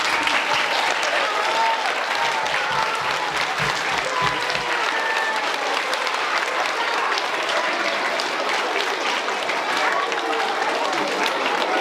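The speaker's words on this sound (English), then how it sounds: "I want you guys to give Stan a really, really big cheer and a really big welcome to Stan" A crowd of children cheers and applauds in welcome at a New Zealand ShakeOut earthquake drill event, a dense, loud, sustained wash of clapping with excited voices mixed in.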